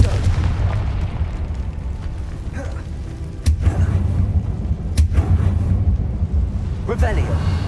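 Confringo blasting spell detonating in a Harry Potter video game, sharp explosive cracks at a few separated moments over a constant low rumble, with a voice talking through it.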